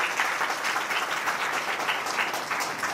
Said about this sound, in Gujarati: એકવાર તો પહેલા જોરદાર તાળીઓ બજાવજો